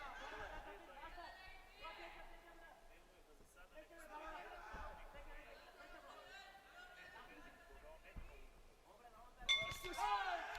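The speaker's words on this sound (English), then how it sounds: "There goes the bell at the end of the round." A boxing bell rings near the end of the round at a 2021 AIBA World Championships 80 kg bout, a brief metallic ding over steady arena chatter and ongoing commentary.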